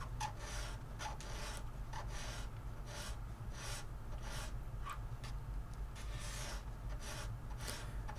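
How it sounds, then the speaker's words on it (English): A nut and saddle file and a small oval scraper work the binding on a Martin HD28P guitar, giving repeated soft rasping strokes at a steady rhythm over a constant low hiss. "I did that with my nut and saddle file and my oval shaped mini scraper"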